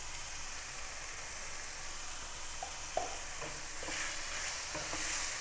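Keema, minced meat with salt, frying in a pan while being stirred, a continuous hissing sizzle broken by spatula scrapes and one knock, no talking.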